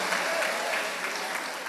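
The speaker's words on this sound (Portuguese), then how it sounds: "Vamos aplaudir para o Rei dos Reis." Sustained applause from a congregation at a Brazilian church conference, a steady dense wash of clapping for the whole stretch, fairly loud and even, with no voices standing out.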